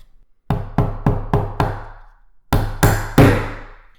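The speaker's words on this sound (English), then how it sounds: "flip the frame over and put the final nail in" A hammer drives a nail into a wooden beehive frame with five sharp, close taps in quick succession. After a brief pause come three heavier blows, all loud and distinct, with no talking.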